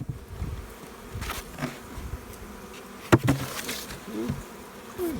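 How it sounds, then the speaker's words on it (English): Honey bees buzz steadily in an opened beehive, a soft continuous drone with individual bees passing close by, plus a few brief knocks and handling noises from the hive. "Quite a few bees in here."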